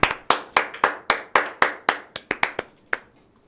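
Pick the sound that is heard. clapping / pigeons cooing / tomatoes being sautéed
clapping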